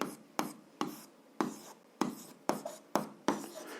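Pen writing by hand while working through a seventh-grade algebra exercise, eight or so short scratchy strokes in a steady rhythm, close and fairly quiet, with no talk.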